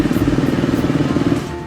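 A KTM 390 single-cylinder motorcycle engine fires and settles into a rapid, even idle thrum, loud and close, for under two seconds before cutting out.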